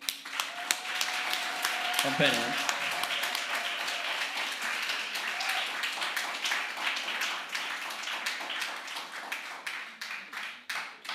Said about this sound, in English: I'm going to ask you to applaud both our